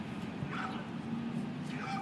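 A dog whimpers and yips in a room during a podcast recording, thin and fairly faint under ongoing background noise.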